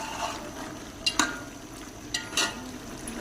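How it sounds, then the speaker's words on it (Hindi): Black chickpeas being roasted in spice masala in a pot for chana pulao, with a faint steady frying hiss and a few brief scrapes of stirring. "मसाले में इसकी करेंगे 7 से 8 मिनट चनों की अच्छे से भुनाई"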